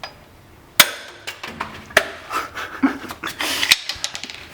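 A ratchet is used as a hammer to knock a replacement wheel stud flush into a wheel hub, giving a series of sharp metallic strikes at irregular intervals, close and fairly loud.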